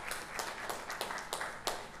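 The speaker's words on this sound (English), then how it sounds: "a round of applause for Asia" A small group claps briefly for Asia at a real estate investing session, a thin, close patter of hands lasting a couple of seconds.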